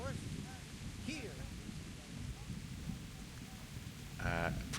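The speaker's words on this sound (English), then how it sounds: "Heavy rain." Heavy rain in the medieval game Kingdom Come: Deliverance, a steady, fairly quiet broadband hiss of downpour lasting throughout, with a few faint chirps and a brief tonal blip near the end.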